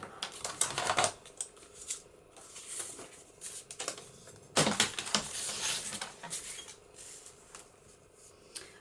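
Sheets of journal paper are trimmed by hand, giving dry scratchy cuts and rustling bursts in uneven strokes, fairly quiet and close, with a couple of louder swishes partway through.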